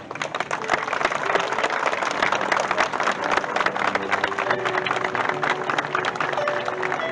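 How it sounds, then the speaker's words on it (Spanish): Applause for a municipal band at a Malvinas Veterans Day civic ceremony, a dense, steady patter of many hands clapping at once that holds at an even level throughout. "la banda municipal Roberto Kieler, a quienes le brindamos un fuerte aplauso."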